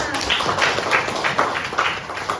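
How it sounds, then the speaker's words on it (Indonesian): A classroom of students clapping together, a steady, moderately loud patter of many hands filling the room without pause. "Oke, tepuk tangan semuanya"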